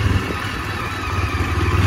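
Yezdi Adventure motorcycle riding over a rough, stony road with no proper surface, its engine a steady low rumble with rattling clatter running continuously and close throughout.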